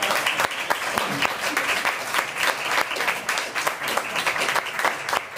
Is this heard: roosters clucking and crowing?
no